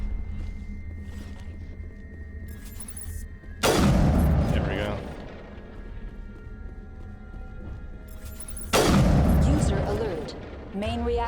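Two loud rocket blasts in Mass Effect combat, each a sudden broadband boom with a long rumbling decay, about five seconds apart, set over a steady hum of sci-fi ambience and scattered gunfire.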